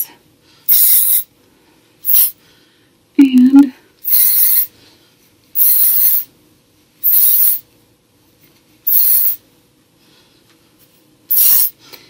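Short hissing bursts of hairspray sprayed onto hair, about eight of them, loud and close, separated by brief pauses, with one small clunk midway.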